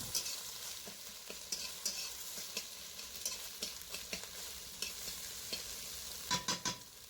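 Egg seasoned with black pepper is scrambled and fried in a pan: a soft, low sizzle with repeated light spatula scrapes, and a quick cluster of louder stirring knocks near the end.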